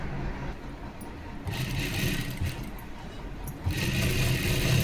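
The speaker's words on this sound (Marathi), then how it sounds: "आणि बघा आता चारी बाजूंनी व्यवस्थित अशी शिलाई करून घेते बरं का, म्हणजे मेन कपडा आणि अस्तर आपलं छान असं स्टिचिंग होऊन जाईल।" A sewing machine stitches a blouse's main fabric and lining together all around the edges, a steady mid-level mechanical whir that runs in bursts, stronger near the start and end, with no talking.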